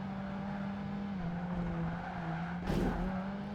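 A race car in Project Gotham Racing 2 running at steady engine drone, then a brief tire screech and skid near the end as it loses control, fairly quiet with no talk.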